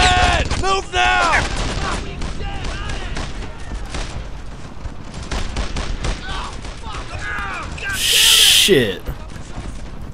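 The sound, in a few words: gunfire in the video game Brothers In Arms: Earned In Blood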